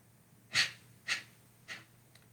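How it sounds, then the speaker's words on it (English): Three sharp, forced exhalations through the nose during a movement exercise, evenly spaced about half a second apart, close and breathy, each a little softer than the one before, over quiet. "3 sharp forced exhalation through the nose"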